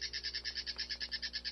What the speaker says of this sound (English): A baba's shrike was making alarming sounds as sitting on the pole.